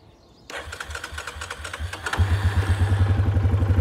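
Yamaha Grizzly 450 ATV engine idling after a restart, a steady near thumping idle with clattering mechanical noise that grows louder and rougher partway through.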